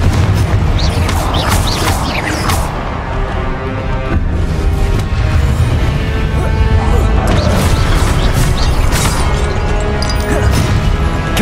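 A barrage of Confringo blasting curse explosions in the Hogwarts Legacy video game, loud repeated booms and crashing impacts piling up continuously over a heavy low rumble.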